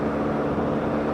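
A vehicle engine surging on bad fuel, a loud steady low drone with rough rumbling texture, close and continuous for a brief moment.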